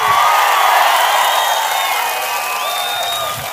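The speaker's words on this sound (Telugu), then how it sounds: "అవును అంటే గట్టిగా చప్పట్లు కొట్టి చెప్పండి" A large crowd applauds and cheers at a TDP political public meeting in Kalyandurg, a dense, steady roar of clapping and whoops held at full strength throughout and easing slightly near the end, with no talking over it.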